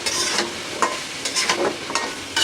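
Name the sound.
sweet pumpkin frying in a pan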